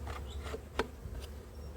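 Faint buzzing of honeybees flying off a frame during a spring hive inspection, soft intermittent wing hum with a brief sharp tick in the middle, quiet and close.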